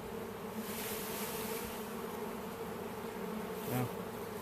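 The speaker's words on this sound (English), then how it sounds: "Oh, this tree is a magnet for this swarm here." A honeybee swarm clustered on a tree fills the air with a dense, steady buzz. The drone stays continuous and fairly close, with a brief louder swell near the end and no talking.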